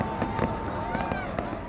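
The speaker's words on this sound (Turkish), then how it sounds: "gökyüzü ard arda patlayan havai fişeklerle aydınlandı" New Year's midnight fireworks burst in rapid succession over a large city, a dense run of sharp pops and booms layered over a steady roar of crowd noise and voices.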